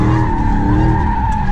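Dodge Hellcat sliding sideways in tandem donuts, a steady loud tire squeal over the roaring engine, close and continuous throughout the short burst.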